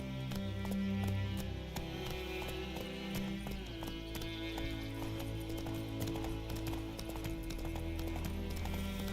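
Clip-clop of the horse Roach galloping in The Witcher video game, a steady rapid hoof rhythm running throughout under a dense, continuous musical score, with a brief whinny.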